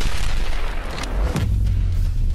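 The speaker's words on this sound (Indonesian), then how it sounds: "Benturan kedua kekuatan besar itu menghasilkan ledakan yang amat sangat besar" A massive explosion erupts from two colossal punches clashing in a One Punch Man anime fight, a deep booming blast followed by rolling low rumble, loud and alone.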